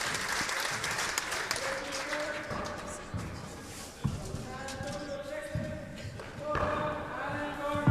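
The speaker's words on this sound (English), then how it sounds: "There's the round of applause for Paul Brady" A round of applause for handball player Paul Brady before the 2009 World Handball Championships four-wall singles final, moderate clapping from a small crowd in a court, with a voice announcing over it and sharp bounces punctuating the sound.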